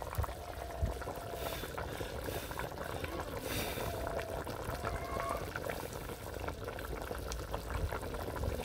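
Duck meat curry simmers and boils in a pot over a village cooking fire on a cold winter day, giving a steady, dense bubbling that continues without a break throughout.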